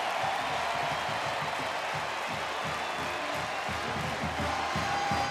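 A sellout stadium crowd roars and cheers steadily in welcome as Notre Dame takes the field at home, a dense, continuous wall of massed voices and applause without a break.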